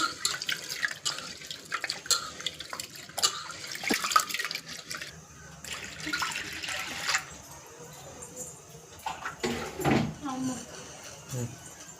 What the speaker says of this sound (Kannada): ಎರಡಿಡಿ ಹೆಸರುಬೇಳೆ ಎರಡಿಡಿ ತೊಗರಿಬೇಳೆ ಇದನ್ನು ನೀಟಾಗಿ ತೊಳ್ಕೋಬೇಕು